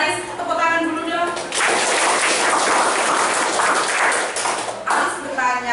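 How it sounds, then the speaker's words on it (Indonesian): Classroom of students clapping together in a dense burst that fills most of the clip, with the teacher's voice heard before and after the applause. "Tepuk tangan dulu dong."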